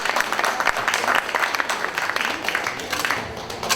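An audience applauds at a lecture on the Itaocaia farm in Maricá, honoring a master's student with steady, dense clapping that fills the hall, with faint voices mixed in.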